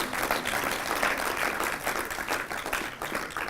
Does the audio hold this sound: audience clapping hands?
yes